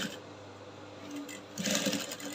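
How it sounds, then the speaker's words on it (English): A sewing machine stitches bustier fabric in a short close burst, its motor hum rising into a louder, faster run near the end. "I've already started sewing the other part up until the point of my center front."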